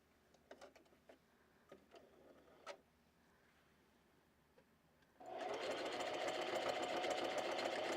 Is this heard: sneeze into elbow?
no